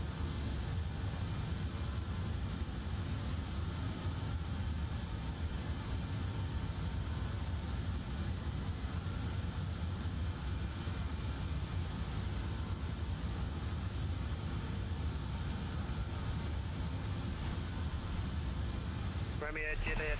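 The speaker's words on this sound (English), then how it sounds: "These engines are getting thrashed so hard." BAe146 jet engines in Microsoft Flight Simulator at cruise altitude, a continuous loud roar and whine holding steady throughout, with a brief sharper sound near the end.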